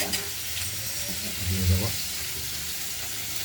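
Ground spice paste sizzles and spits in hot oil for a katla fish curry with potatoes, beans and tomato, a steady close frying crackle while a voice speaks briefly over it.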